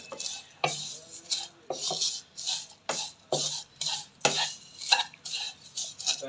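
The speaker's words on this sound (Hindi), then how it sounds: "मीडियम फ्लेम पे आप इसको फ्राई करें।" Colored vermicelli roasting in a pan for sheer khurma, stirred with a spoon in repeated scraping strokes that clack against the metal, roughly one stroke per second, close and dry.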